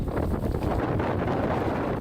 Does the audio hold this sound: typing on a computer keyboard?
no